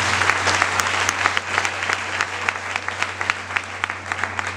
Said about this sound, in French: On applaudit la parole de Dieu maintenant.